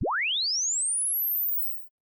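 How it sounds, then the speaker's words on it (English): A pure sine sweep test tone used for speaker measurement, rising smoothly from a low hum to a piercing high pitch over about one and a half seconds at constant loudness, then abruptly silent. "I use something that's called a sine sweep"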